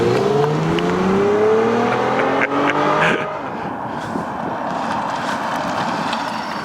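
A Mazda6 or Infiniti M35 Hybrid revs hard with traction control off in a failed burnout attempt, the engine note climbing and falling in loud, sustained surges before settling into a steady rumble.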